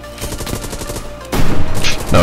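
Rapid close gunfire from a Hell Let Loose battle, with a lighter stretch of shots giving way to a loud, dense burst of overlapping rounds.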